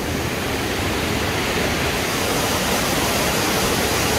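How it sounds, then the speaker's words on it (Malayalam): The Parvati river rushes past the Manikaran hot springs, a loud, unbroken roar of fast-flowing water close by. "പാർവതി റിവർ ഒഴുകുന്നുണ്ടോ? റിവർ കണ്ടോ?"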